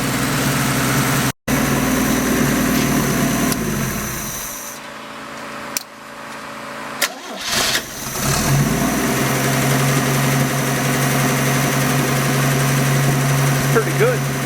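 A rebuilt turbocharged 250 engine idles on its first run with a loud, steady low-frequency burble; the sound briefly cuts out and dips midway, then settles back into an even idle.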